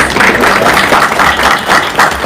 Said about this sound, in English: Can we have another round of applause for these business owners?